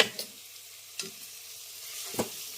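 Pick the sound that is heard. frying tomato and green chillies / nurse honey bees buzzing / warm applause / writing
frying tomato and green chillies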